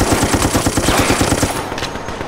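Sustained automatic gunfire in the video game Resident Evil: Operation Raccoon City sounds as a fast, even, loud stream of shots that stops abruptly partway through, leaving quieter background noise.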